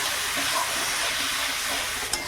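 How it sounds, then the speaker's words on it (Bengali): Spice paste of ground fresh red chillies frying with a splash of water in a pan, a steady close hiss and bubbling sizzle throughout with a brief sharper crackle near the end. "এর মধ্যে একটুখানি জল দিয়ে দেবো মশলাটা কষানোর জন্য"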